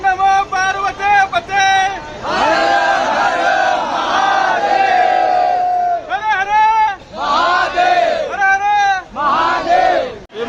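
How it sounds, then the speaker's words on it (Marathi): A large crowd of pilgrims at the Mahakal temple in Ujjain during the Shravan month, many voices rising together in loud rhythmic chants and shouts that swell and fade in waves, close and dense throughout. "श्रावण मास असल्यामुळे बरीच गर्दी आहे"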